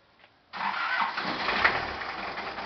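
A cold engine with a heater plug cranks and catches after a brief quiet moment, then settles into a steady, close mid-pitched idle with small surges.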